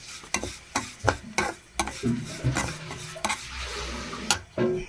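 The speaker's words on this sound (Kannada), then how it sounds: "ಮೀಡಿಯಮ್ ಫ್ಲೇಮ್ ಇಟ್ಕೊಂಡು ರವೆ ಹುರ್ಕೊಂಬಿಡೋಣ ರೀ" Semolina (rava) dry-roasting in a pan over a medium flame, with repeated scraping strokes of a spoon against the metal and a soft granular rustle in between, close and fairly quiet.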